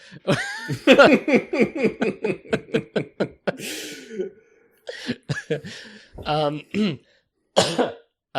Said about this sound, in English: Sorry if I'm coughing occasionally.